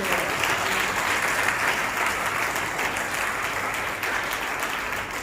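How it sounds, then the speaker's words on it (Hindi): Loud, dense congregational clapping during a Hindi-language church service, a continuous wash of applause holding steady for about five seconds with no talk over it. "जोरदार ताली हो जाए।"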